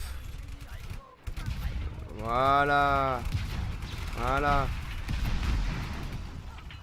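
Cannon fire in the Just Cause 3 video game: loud rumbling booms and blasts of gunfire roll on throughout, with someone speaking briefly over the din.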